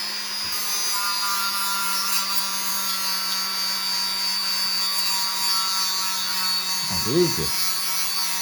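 A handheld rotary tool grinding the blade of a knife, a steady high whine with a brief pitch wobble near the end, while someone speaks briefly.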